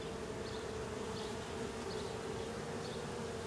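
Honey bees buzz around a newly installed hive late in the season, a continuous, even hum of many insects heard from close by with no voices.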